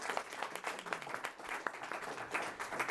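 Steady audience applause after a startup pitch to an investor panel, continuous mid-level clapping from a crowd throughout with no pause.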